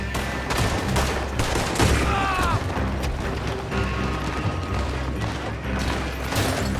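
Shootout gunfire in Red Dead Redemption 2, with dense overlapping rifle and pistol shots rattling continuously and loudly, mixed with shouting voices and battle noise.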